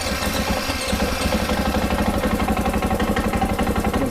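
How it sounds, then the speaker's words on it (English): A Husqvarna FE501 dual-sport motorcycle idles nearby on a ridge, its single-cylinder engine giving an even, loud, pulsing rumble throughout. "We're going to start the bike up."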